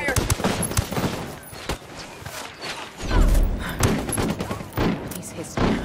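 Rapid bursts of automatic gunfire and heavy thuds from a Ghost Recon Wildlands PvP match, loud and close, with game voice callouts over the shooting.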